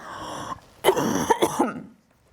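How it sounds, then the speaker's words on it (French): A person coughs several times in a quick burst of harsh, close coughs, followed by silence. "excusez-moi, je tousse"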